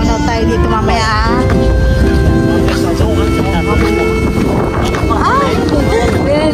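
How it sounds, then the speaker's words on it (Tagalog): Strong outdoor wind in a downtown area on Independence Day, strong enough to lift a hat, buffets the microphone steadily under crowd chatter and a person talking nearby. "medyo mahangin"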